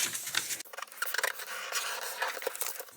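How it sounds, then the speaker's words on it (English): A square sheet of paper is folded diagonally in half for an origami dinosaur, giving close, crisp papery crinkles, rubs and a sharp crease scrape that come and go over a few seconds, with no talking. "the first step is to fold it diagonally in half"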